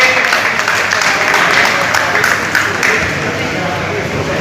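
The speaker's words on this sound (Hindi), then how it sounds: "एक बार जोरदार तालियों से" Applause welcomes a new member at a Lions Club installation ceremony held on Independence Day, a loud, dense burst of clapping from the gathered audience that fades slightly toward the end.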